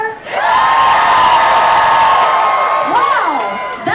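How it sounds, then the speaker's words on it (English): A live audience at a comedy show yells and screams together in one long, loud burst of whoops and cheers that fades slightly as a voice rises at the end. "So let me get a show of yells and screams."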